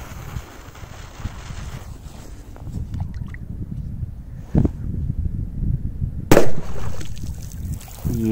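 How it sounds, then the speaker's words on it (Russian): A Thunder King firecracker explodes in water outdoors, giving a single sharp, loud burst after a short dull thump, over steady wind rumble and faint water noise. "будет петарда Thunder King."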